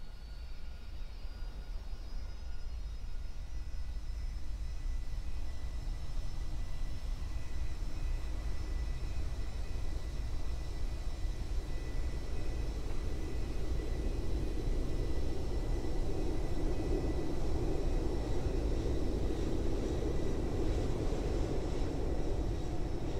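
A plane takes off in the Roblox flight game Aeronautica, its jet engine roaring steadily with a high whine, the rumble building louder toward the end of the run.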